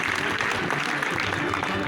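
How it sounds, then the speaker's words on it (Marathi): Audience at a village sarpanch award ceremony in a hall applauding, a dense continuous wash of clapping that stays even and fairly loud throughout, with a voice faintly mixed in. "सरपंचांसाठी, जोरदार टाळ्या वाजवायच्या."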